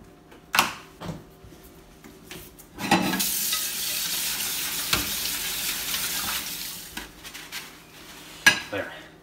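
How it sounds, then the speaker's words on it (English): Dishes are washed in a sink, with clinks and knocks of plates and cutlery and a long stretch of running water between them, heard close and fairly quiet. "Wash the dishes."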